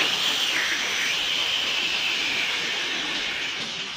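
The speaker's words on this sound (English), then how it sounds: "You've burst your safety valve." A steady, loud hiss of steam escaping from a burst safety valve on a railway engine fills the whole stretch, broad and continuous, easing only slightly toward the end.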